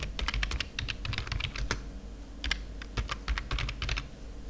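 Fingers type quickly on a computer keyboard while text is entered into a PowerPoint slide, producing dense clusters of sharp, close key clicks with brief gaps and no voice.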